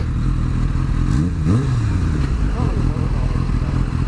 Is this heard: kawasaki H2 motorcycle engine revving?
yes